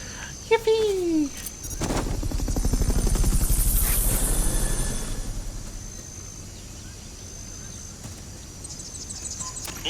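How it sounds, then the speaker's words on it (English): A helicopter in the video game Metal Gear Solid Peace Walker swells into a loud, steady rotor drone for several seconds, then fades away, with a spoken voice heard over it. "Assault and recovery subject confirmed onboard helicopter."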